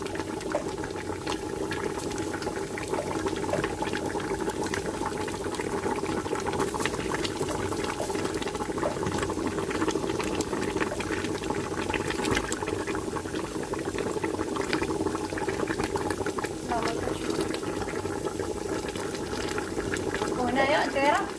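A cooking pot simmers with a sheep's head and red and green squash for couscous, bubbling steadily and continuously at close range, while people talk over it.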